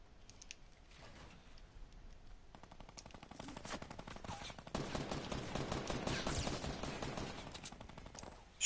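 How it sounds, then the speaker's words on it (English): Rapid automatic gunfire from a minigun in a PS4 shooter game, bursts of fast rattling shots that grow denser and louder midway, heard close with game background noise. "Shoot at the guy with the frickin' minigun."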